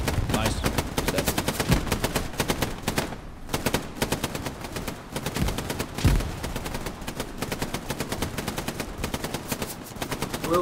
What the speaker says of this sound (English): Good MG fire and guys move up.